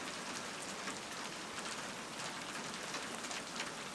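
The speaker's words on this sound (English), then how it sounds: "The rain doesn't help though." Steady rain falls outdoors as a dense, even hiss that continues without break, fairly soft, with no voices.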